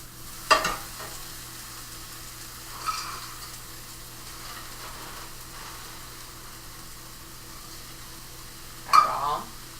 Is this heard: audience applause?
no